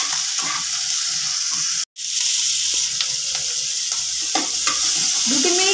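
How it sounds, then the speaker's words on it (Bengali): Capsicum and onion fry in oil in a pan for a homemade chilli fish dish, a loud steady sizzle with scraping stir strokes of a spatula, briefly interrupted by a cut, no talk. "দু 3 মিনিট ভাজার পরে ক্যাপসিকাম পেঁয়াজ সব কিছু থেকে সুন্দর তেল ছেড়ে দিয়েছে।"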